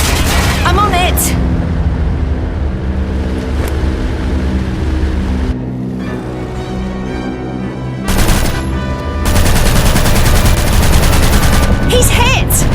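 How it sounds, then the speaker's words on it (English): Rapid machine gun fire during an aviation shootout, loud continuous bursts over engine drone, with short pauses and voices speaking between the volleys. "Start shooting back then."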